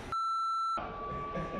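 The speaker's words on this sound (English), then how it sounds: "If that beeping doesn't stop," An electronic beep sounds once as a long steady tone in a garage, loud and close, then a thinner tone lingers faintly beneath the background noise; no talking.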